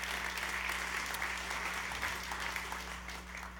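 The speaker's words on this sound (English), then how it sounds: "So give them a round of applause." An audience at a La Marzocco partner summit applauds Cafe Imports, with steady, sustained clapping from many hands that fades slightly toward the end over a constant low electrical hum.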